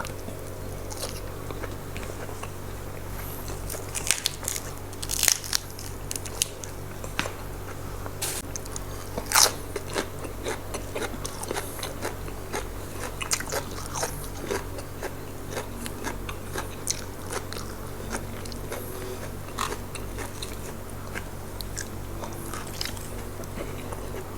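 Someone chewing and biting durian with sticky rice, a long series of close, crisp crunches and wet mouth clicks at an irregular rhythm over a faint steady background hum, no talk.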